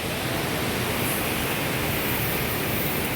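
Hogenakkal Falls roars with a loud, unbroken rush of falling water that fills the whole space, dense and steady from up close, with no voices.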